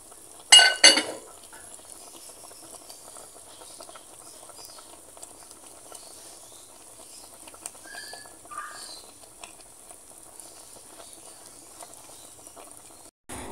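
Fish paksiw, tagbago or danggit fish simmering in pure vinegar, bubbles softly in a pot, a faint steady patter of boiling, with a couple of sharp utensil clinks near the start.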